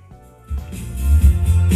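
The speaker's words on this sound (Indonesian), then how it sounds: "ini adalah suara dari speaker yang saya kasih tulangannya tadi ya" A reinforced market-grade speaker box, braced inside with a partition to stop vibration, plays a loud bass-heavy sound that swells from near silence after half a second and stays strong to the end.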